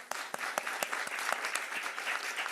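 Conference audience at the HACSA Sankofa Summit 2024 claps for a traditional leader, a fairly faint, steady stream of applause with a few sharp individual claps standing out near the start.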